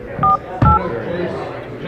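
Two short touch-tone dial beeps from a telephone keypad sound close and clear in a quick pair, set against a background of low room chatter.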